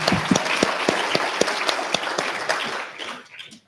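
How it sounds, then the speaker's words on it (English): An audience at a tech conference applauds after a startup pitch, brisk clapping with distinct sharp claps at the front that fades out over a few seconds. "round of applause"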